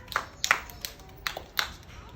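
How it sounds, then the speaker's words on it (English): Toddlers clap in short, scattered bursts at a preschool building-blocks session, several sharp uneven claps close by with some voices mixed in. "Everyone clap."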